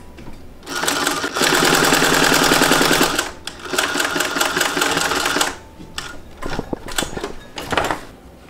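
A sewing machine runs a quick basting line with an eighth-inch seam allowance to close the bottom of a pocket, whirring loudly in two longer bursts followed by short stop-start stitches.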